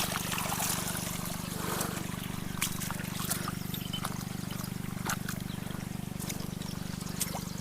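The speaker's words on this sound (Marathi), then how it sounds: "बघा फायनली शेतामध्ये पाणी पोचलं" Irrigation water trickling steadily into a rice field in the Konkan, a constant soft flow with a low steady hum beneath and faint scattered clicks.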